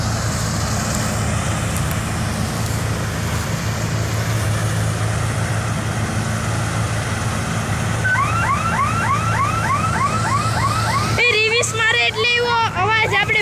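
Brakes squeal on a wheat harvester cutter in a farm field, a series of rising, whistling chirps that repeat in quick succession and grow denser toward the end, over a steady low engine rumble.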